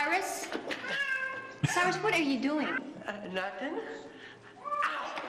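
A real cat meows several times, loud and close, in drawn-out wavering cries that overlap with people talking and laughing nearby.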